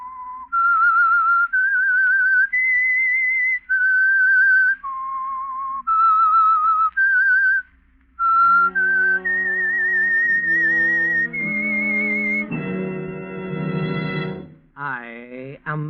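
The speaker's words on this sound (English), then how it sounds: "That whistle is your signal for the Signal Oil Program" A lone whistled tune, the eerie signature melody opening a 1946 radio drama, rises and falls in long sustained notes, loud and clear. It then gives way to a swelling orchestral chord.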